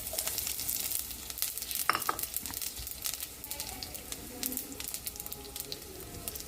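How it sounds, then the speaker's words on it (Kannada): Cinnamon, cloves, cardamom, ginger, garlic, a green chilli and coriander seeds sizzle and crackle steadily in hot oil in a pan, with occasional sharper pops and a stir midway. "ಚಕ್ಕೆ, ಮೊಗ್ಗು, ಏಲಕ್ಕಿ, ಲವಂಗ, ಶುಂಠಿ, ಬೆಳ್ಳುಳ್ಳಿ, 1 ಮೆಣಸಿನಕಾಯಿ, ಸ್ವಲ್ಪ ಧನಿಯಾ, ಇದಷ್ಟನ್ನು ನಾನು ಈಗ ಈ ಎಣ್ಣೆ ಬಾಣಲೆಗೆ ಹಾಕ್ತಾಯಿದ್ದೀನಿ."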